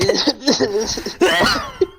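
Several harsh coughing bursts from a person with asthma set off by dust, loud and close, coming in quick irregular fits over two seconds with a sharp final cough near the end.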